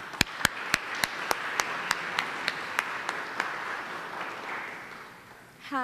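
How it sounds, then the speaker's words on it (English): Sparse, evenly spaced hand claps, roughly a dozen, ring out in a quiet hall at a festival of ideas session, gradually slowing and softening before dying away. "So if you all can give her applause"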